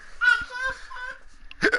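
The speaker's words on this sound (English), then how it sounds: "I have the hiccups too" Two short, sharp hiccups from a man recording a podcast, one near the start and another toward the end, with a brief bit of talk between them.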